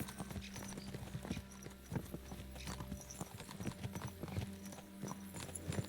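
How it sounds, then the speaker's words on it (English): Horse hooves clip-clop at a steady walking rhythm in the video game Kingdom Come Deliverance II, close and fairly quiet, with occasional harness jingles. "Just wanted to pat my horse."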